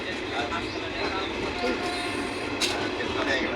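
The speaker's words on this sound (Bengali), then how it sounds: "ভগবানগোলা স্টেশন লালগোলা ট্রেনে উঠে পড়েছি" Inside a moving Lalgola train, boarded at Bhagwangola station, in a general compartment, a continuous low rumble and rattling hum, with people talking over it.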